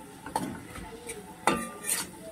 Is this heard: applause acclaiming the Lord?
no